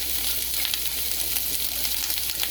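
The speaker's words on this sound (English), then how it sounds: "you can hear the sizzle and see the steam" French onion soup base sizzles steadily in a hot pot, a dense crackling hiss that stays constant throughout, with no talking.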